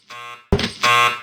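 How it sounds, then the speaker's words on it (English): Harsh electronic failure beep from the stealth section of the video game True Crime: Streets of LA, sounding as a buzzy tone, then an abrupt louder burst, then a second sustained tone, all loud and close. "failing the stealth section gives you this beep sound"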